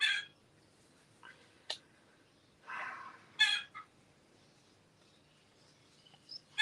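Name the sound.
chicken clucking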